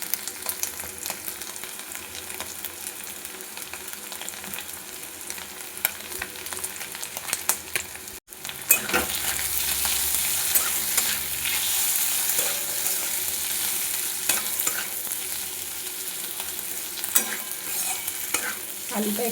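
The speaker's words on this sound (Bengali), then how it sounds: "আলুটা একটু একটু ভাজা ভাজা হয়ে গেছে, এটা বেশি বেশি ভাজবো না।" Boiled potatoes dusted with turmeric fry and sizzle in a pan, stirred steadily with a utensil; a continuous loud sizzle with scraping strokes, briefly interrupted near the middle, with no talking.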